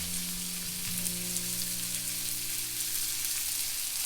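Ribeye steak meat sizzles in oil on a flat top griddle, a steady dense crackling hiss throughout with a low hum beneath, close and alone.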